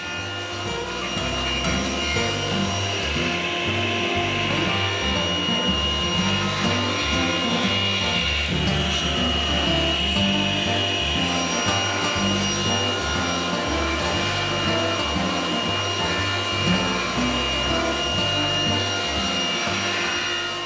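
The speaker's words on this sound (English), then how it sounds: "I'm starting with 2x8s that I'll rip down into strips 1 1/2 inches wide." A table saw rips 2x8 lumber into 1 1/2-inch strips, a steady loud whining roar with a rough grinding texture that carries on evenly throughout, no voices.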